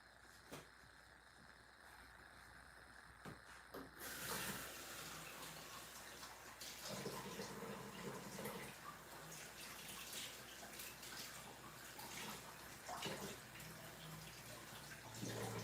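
Running sink water splashes steadily for several seconds as a canning item is rinsed, starting quietly, then surging louder as the item enters the stream and shifting as it is turned under the flow.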